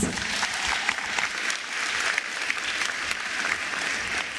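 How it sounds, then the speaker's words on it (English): Dense applause at a 2024 matric results announcement, a crowd clapping continuously and fairly loudly throughout. "Let's give her a wonderful round of applause."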